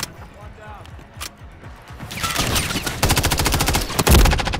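Heavy automatic gunfire in the Call of Duty MW3 beta multiplayer, starting as scattered shots and building into dense, rapid bursts that grow louder toward the end, with game voice callouts and background action.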